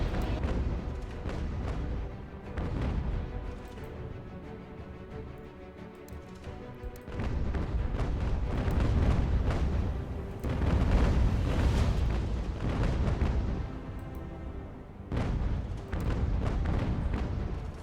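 Deep booming naval cannon fire in the video game Ultimate General: American Revolution during a large sea battle, heavy rumbling blasts that swell and fade in several waves over a low continuous roar.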